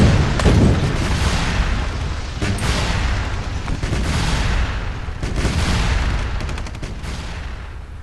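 Tanks assault rebels at a farm during a Tropico 5 battle, producing a dense, continuous barrage of booming explosions and rattling gunfire, loud and near, with heavier blasts around the second and fifth seconds.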